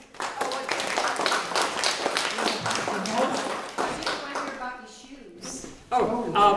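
An audience at a museum steampunk show and tell claps for several seconds, dense and steady, with voices mixed in and a clearer burst of clapping near the end.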